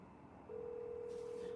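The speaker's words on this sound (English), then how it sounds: "Calling from my phone." A single steady telephone tone starts partway through and holds on, heard faintly over quiet room noise while a call is placed from a phone.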